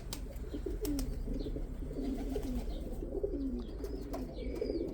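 Young pigeons cooing near their loft, with soft rolling coos repeating in a steady rhythm over a low background hum, close and moderately loud.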